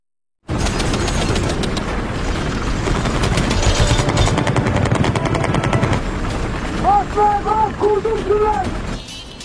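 A helicopter drones loudly and continuously in an action film chase, pursuing an armored car while rapid machine-gun bursts rattle through, ending with sharp chirping tones near the close.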